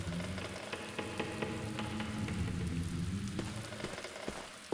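Steady rain and gusting cold wind pour through a broken window into a room of an old collapsing manor wing in the game The Black Mirror, a dense continuous hiss with scattered drip-like taps throughout.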